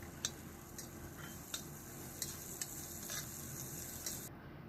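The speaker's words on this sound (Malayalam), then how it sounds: "അല്പം കറിവേപ്പില ഇടാം" Curry leaves hitting hot oil in a pan while making a chicken liver and egg bhurji, giving a low steady sizzle with a few sharp crackles and clicks, fairly faint and without talk.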